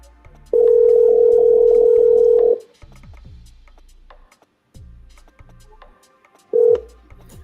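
Outgoing telephone call ringback tone: a loud steady tone lasting about two seconds, a pause of low background noise, then a short start of the next ring cut off, close and clear.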